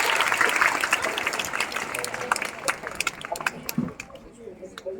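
Applause from a seated audience at a retirement farewell ceremony, a dense burst of clapping that thins into scattered claps, with a voice speaking over it.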